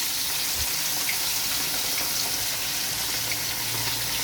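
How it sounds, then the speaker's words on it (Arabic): Fish frying in a pan of hot oil, preparing a Djerba-style chermoula dish, giving a steady, dense sizzle that holds at an even level from start to finish with no talking. "تقلي فيه الحوت."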